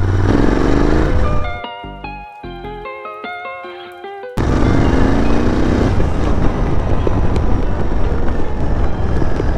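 A Royal Enfield GT 650 Twin motorcycle on its stock exhaust rumbles steadily with a deep exhaust note in the rain, briefly interrupted by a stretch of tonal, music-like sound before the loud engine drone returns.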